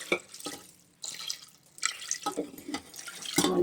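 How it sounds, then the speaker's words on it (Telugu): Water splashes and pours in short bursts into a pressure cooker over pieces of shark fish with a little turmeric, close and moderately loud, pausing between pours. "ఇదిగోండి ముక్క ములిగేంత వరకు వాటర్ వేసుకుని ఉడకపెడదామండి"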